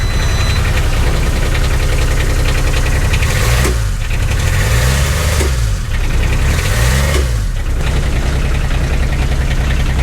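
A diesel engine on a piece of industrial equipment runs loud and steady, its low rumble holding throughout after starting, with rhythmic pulses and swells in the low end.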